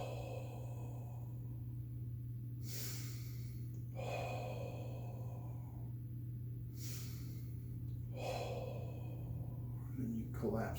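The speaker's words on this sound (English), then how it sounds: "Then you hold for 3 breaths." Slow, audible breaths during a breathwork exercise: three long airy inhale-exhale swells spaced several seconds apart over a steady low hum, close and moderately soft, with no speech.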